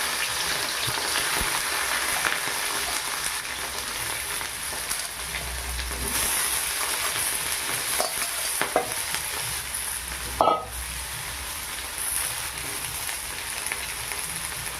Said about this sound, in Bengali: এবার দেব ধুয়ে কেটে রাখা সব সবজি